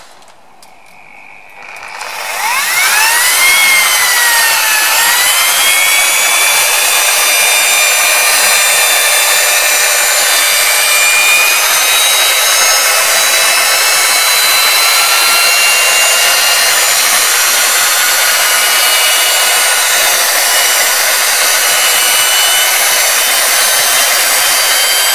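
Rotary polishing machine working over a car's wet-sanded clear coat at low pressure and low speed, a loud steady whir with shifting tonal whine that starts after a brief quiet moment and runs continuously.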